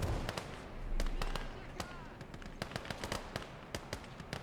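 Grenade explosions amid a winter battle in the Gates of Hell: Ostfront game, heard as rapid, sharp cracks and bangs that keep bursting over a continuous rumble of combat.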